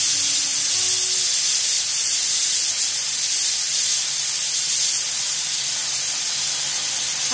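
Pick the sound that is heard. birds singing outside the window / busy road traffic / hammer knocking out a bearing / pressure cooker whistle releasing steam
pressure cooker whistle releasing steam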